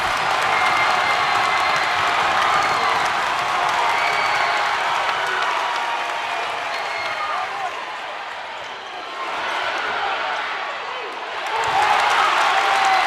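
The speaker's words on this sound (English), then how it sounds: "this crowd has just come to life" A crowd at a WPIAL boys' basketball quarterfinal between McKeesport and Gateway roars loudly and continuously, dipping briefly before surging again, with talk mixed into the noise.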